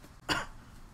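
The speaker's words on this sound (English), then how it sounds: "If you're going to cough, ask for permission." A single short cough or throat-clearing bursts out once in a quiet room during a casual comedy podcast, brief and fairly close, with no talking over it.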